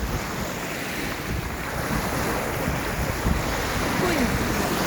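Waves roll and wash at the sea under steady, blustery wind that buffets the microphone, a continuous loud roar with no clear breaks.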